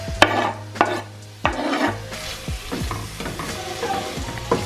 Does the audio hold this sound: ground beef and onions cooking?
yes